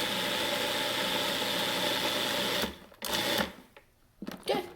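Food processor pulsing garlic, parsley and bread, a loud steady motor whir lasting a few seconds, then cutting off into short bursts and quieter pauses.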